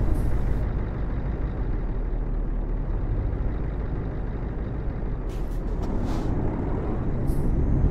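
A big truck reverses in Euro Truck Simulator 2 under a constant close diesel rumble, with several short hissing bursts from the air brakes near the end.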